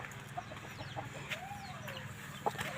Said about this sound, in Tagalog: Yan, may manok din kaming isa.